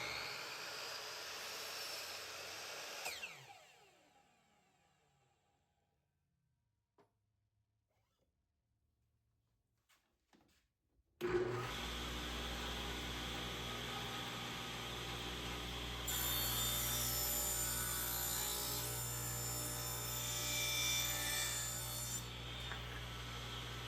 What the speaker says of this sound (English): I'm going to use my miter saw to cut that